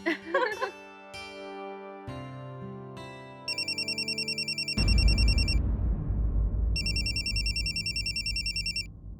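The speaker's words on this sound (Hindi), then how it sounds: "अरे आपके भैया का फोन है" A loud electronic phone ringtone repeats in two bursts over a tinkly melody, with a low rumbling wash of noise underneath.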